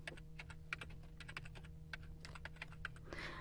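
Quick keystrokes on a computer keyboard while a document is being renamed in a save dialog, a steady run of close, distinct clicks over a low electrical hum.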